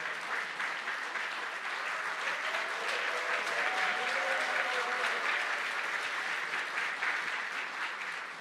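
A church gathering applauds to welcome a pastor, with sustained, even clapping filling the room for over eight seconds and a faint murmur of voices underneath.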